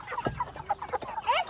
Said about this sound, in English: I'm going to show you the chickens.